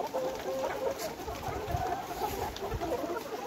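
Moulting layer hens in cages cluck and murmur together, a soft, steady chorus of many birds with a few brief louder calls.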